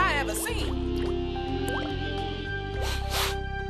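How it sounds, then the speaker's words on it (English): Cartoon sound of ugly water dripping from leaking pipes, a run of close squishy drips and liquid plops across a busy scene with tonal music-like layers. "These pipes are leaking the ugliest water I ever seen."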